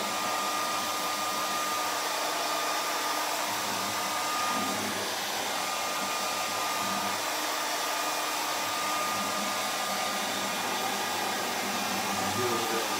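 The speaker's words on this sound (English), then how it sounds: "I'm going to take the hairdryer again. I'm just going to warm up the pocket." A hairdryer blows in a steady, even whoosh for several seconds, warming the neck pocket of a 1950 Martin D-28 acoustic guitar during a neck reinstallation; the drone stays close and loud without voices.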